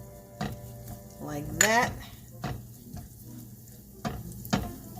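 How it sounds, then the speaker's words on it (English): Garlic sizzles in a hot pan while a utensil stirs and scrapes against it, with clanks of metal on the pan in between. A voice speaks briefly near the end. "so we just want to put these garlic in here"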